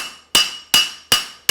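Four firm hammer blows on a horseshoe as its hoof side is flattened, each a sharp ringing metallic strike with a bright decaying tone, evenly spaced and loud.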